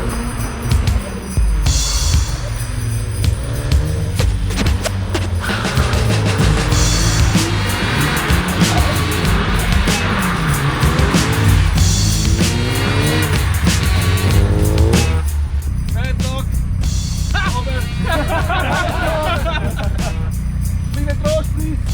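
A car drifts at an after-work Christmas drift challenge, its engine revving hard while the tires squeal in long, wavering bursts, with excited voices talking and shouting close by throughout.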